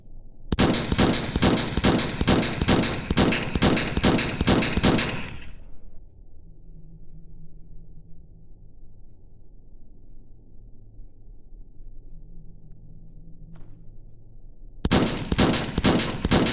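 Rapid gunfire in the Melon Playground video game rattles in loud, evenly spaced automatic bursts for about five seconds, stops for a long quiet stretch with a faint hum, then resumes abruptly at the end.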